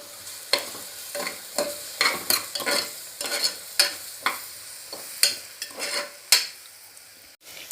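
Ginger, garlic and green chili paste frying in a pan, with a steady sizzle broken by repeated scraping stirs from a spoon, close and moderately loud, no voices.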